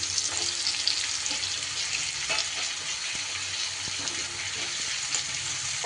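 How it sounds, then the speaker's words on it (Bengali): Potato, pointed gourd and ridge gourd fry together in a pan, giving a continuous bright sizzle with soft intermittent scrapes and clicks of stirring, steady and fairly close throughout. "আলু পটল ঝিঙে সব একসাথে সুন্দর করে নাড়াচাড়া করে ভাজা করে নেব"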